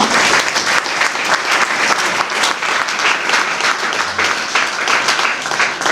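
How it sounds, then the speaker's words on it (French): Loud, dense applause from a large audience, steady and sustained throughout with no pause. "est-ce qu'on peut applaudir pour elle?"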